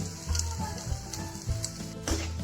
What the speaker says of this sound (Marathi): जिऱ्यालाही चांगल्या प्रकारे तेलामध्ये परतून घ्यायचं आहे.